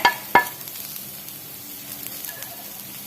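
Chutney ingredients heat in a pan with a soft, steady sizzle, broken by a couple of sharp clicks and scrapes near the start, close and fairly quiet with no talking.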